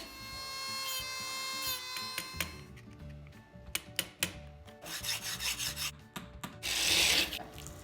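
A utility knife scores a peel-and-stick gold rush veneer kitchen backsplash panel along a marked line, giving repeated short rasping strokes, close and moderately loud, with no one talking.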